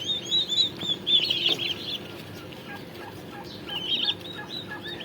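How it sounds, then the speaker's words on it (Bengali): Young turkeys peep in high, thin calls in bursts, near and fairly clear, with a brief flutter and a quieter stretch in between. "দেখেন টার্কির মুরগির বাচ্চাগুলো"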